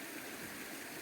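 A small native mountain stream, a brook trout creek, flows in a soft, steady, faint rush with no other sounds.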